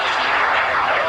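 A fixed-wing airplane taking off at a 1984 airshow in Denton, its engine a loud, steady roar that holds without a break, heard close and alone.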